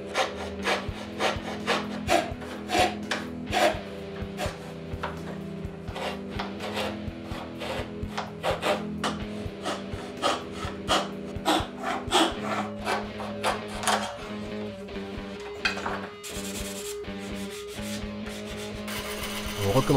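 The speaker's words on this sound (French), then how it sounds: "Et je fais ma coupe à la scie à chantournée." A scroll saw cuts through wood for a Rickenbacker 4000-style electric bass guitar with a rapid, steady buzzing rasp, its motor humming continuously close to the microphone throughout.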